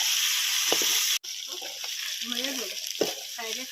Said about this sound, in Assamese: এইখিনি ভালকৈ ৰঙা নহৰুতে ভাজি আছোঁ।